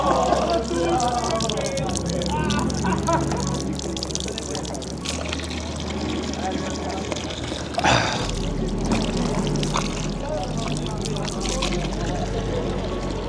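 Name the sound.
drinking water flowing from public fountain in Rome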